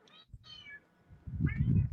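A house cat meows twice, close and clear, the first cry longer and rising, followed by a louder, lower murmuring meow-like vocal at the end.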